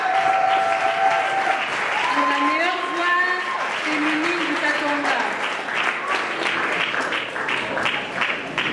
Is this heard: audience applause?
yes